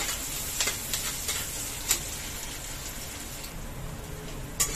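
Bitter gourd (karela) stir-frying in a pan, a soft, steady sizzle with a few sharp scrapes or clicks of stirring, fairly quiet and close, no voices.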